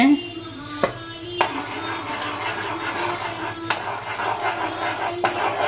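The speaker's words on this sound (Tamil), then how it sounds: "கொஞ்சம் கொஞ்சமாக போட்டு அப்படியே சுற்றிட்டே பண்ணலாம்." Steady hiss of a pot of boiling water with a few sharp scrapes and clinks of a spoon stirring as semolina is added, close by, no talking.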